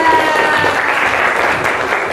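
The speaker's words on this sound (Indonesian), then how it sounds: "Tepuk tangan buat kelompok 2." A classroom group bursts into applause for a winning quiz team, dense steady clapping from many hands filling the room for about two seconds.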